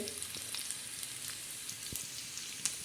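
Onion frying in a cumin tempering on a griddle, a soft steady sizzle with faint crackles and pops, quiet and close.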